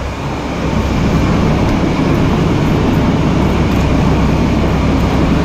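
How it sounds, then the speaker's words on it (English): A steady, loud mechanical rumble of a feed auger filling feed hoppers on a dairy farm runs continuously throughout, dense low-end droning with no pauses and no voices. "The noise you can hear rumbling is the auger filling the"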